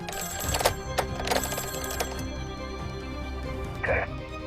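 A telephone bell in a colonel's office rings in three short bursts, two close together and a third after a pause, over a steady background of music and room noise.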